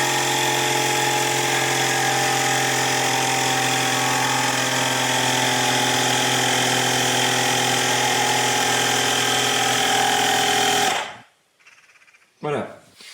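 A portable tyre air compressor inflates a car tyre to 2.5 bar with a loud, steady, buzzing mechanical drone for about eleven seconds. It then cuts off and a brief voice follows.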